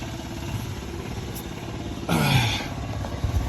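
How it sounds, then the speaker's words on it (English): Exhaust of a Ford Ranger with a cylinder 1 misfire, a close, uneven chugging idle with rhythmic pulses, then a louder rasping surge partway through before settling back. "we listen to the exhaust"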